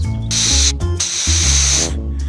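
A loud pressurized spray from a car washer nozzle hisses in bursts, starting and stopping several times over a low mechanical hum, close to the microphone, while cleaning solar panels.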